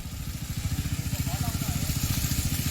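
Petrol engine on a five-sok watering boat, revving steadily close by with a fast, even low throb that holds through the whole stretch.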